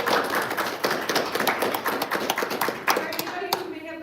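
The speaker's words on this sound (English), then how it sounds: "let's round of applause for the audience" Scattered, uneven clapping from a small audience at a live event at Centennial Airport in Denver. Sharp individual claps ring out, mixed with voices and light knocks.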